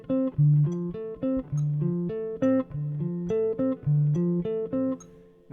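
A triplet rhythm phrase played on a guitar with an added note, a clean run of short plucked notes in a syncopated, repeating pattern.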